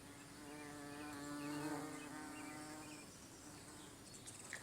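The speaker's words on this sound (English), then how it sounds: "There's a couple bees." A low, steady buzzing of honeybees drifts close by, rising and fading a little as they move, with soft outdoor background noise.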